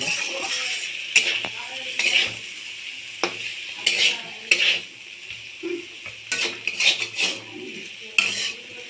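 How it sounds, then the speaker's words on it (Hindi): Pointed gourd (potol) and potato frying in a pan, with a soft steady sizzle broken by repeated scrapes and clinks of a spatula stirring against the metal, close and moderately loud. "पोटल आलू भजा देखिए"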